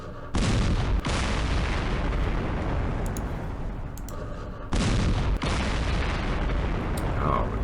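Heavy artillery and gunfire blasts against tanks in the Campaign Series Middle East war game, two long loud booming volleys with sharp impacts, each rumbling on for several seconds.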